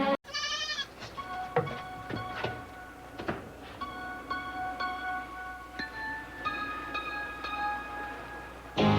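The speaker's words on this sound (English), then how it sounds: "It's a goat." A goat bleats repeatedly indoors, loud and close, with several wavering cries spread over several seconds and no talking.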